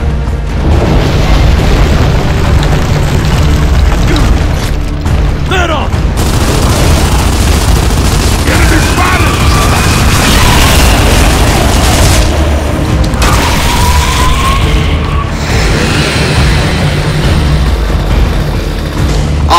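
Exploding wretches blowing up in the Gears of War: Judgment video game, booming blasts and gunfire-like bursts packed into a loud, dense battle soundscape that runs continuously throughout.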